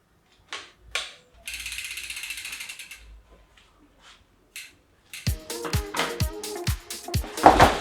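A hand ratchet tightens 5 mm Allen bolts on a bicycle rear brake, with a few isolated clicks, a fast buzzing run of clicks, then a burst of sharp, close clicking strokes.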